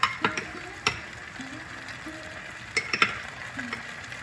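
Ginger frying and being stirred in a pan for Bengali Dhokar Dalna, a soft steady sizzle broken by a few sharp scraping clicks of a utensil against the pan.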